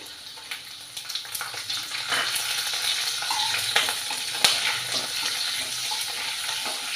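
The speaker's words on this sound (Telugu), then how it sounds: "కొంచెం వేయించుకోవాలి" Ginger pieces, green chillies and dry red chillies fry in hot oil for rice upma, giving a steady close sizzle with scattered pops and crackles throughout.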